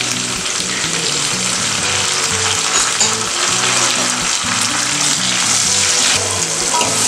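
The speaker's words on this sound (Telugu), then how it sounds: "టమాటాలు ఆనియన్స్ వేగాయండి" Onions, tomatoes and curry leaves fry in hot oil for an egg masala curry, a loud, continuous close-up sizzle and crackle with a steady bubbling undertone and no voices.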